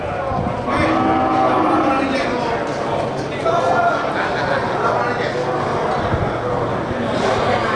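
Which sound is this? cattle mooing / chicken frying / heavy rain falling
cattle mooing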